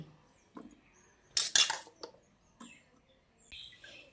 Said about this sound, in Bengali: তারপর এই মিক্সিং জারের মধ্যে কেটে ধুয়ে রাখা বিটগুলোকে দিয়ে দিচ্ছি।